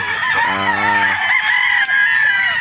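Roosters crow on a gamefowl farm in Batangas, one clear nearby crow rising and falling over a steady background of other birds and farm noise.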